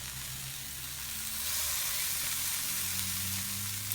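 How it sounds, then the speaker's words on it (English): Steady, close sizzling of rib eye steak searing in a hot pan, a bright crackling hiss that grows slightly louder midway. "That noise just makes your brain spin with flavour."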